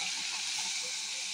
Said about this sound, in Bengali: মাছ, এটা চিংড়ি মাছটার মধ্যে আমি হলুদ, নুন সব মাখালাম, মাখিয়ে কড়াইতে দিয়ে দিচ্ছি।